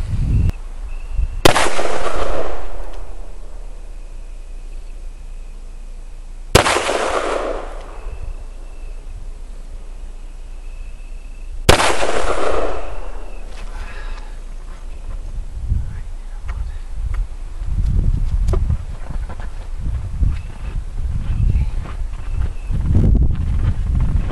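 Three loud .357 Magnum revolver shots firing Winchester PDX1 Defender ammunition outdoors, spaced about five seconds apart, each a sharp blast with a decaying echo, followed by faint rustling and handling noise.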